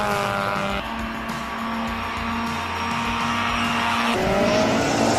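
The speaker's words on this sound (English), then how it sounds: "This is Peter Solberg in the WRX." A Subaru WRX race car driven hard off the line at the Simola hillclimb, its engine roaring loud and close with rising and shifting revs, tyres squealing as it launches, no voices over it.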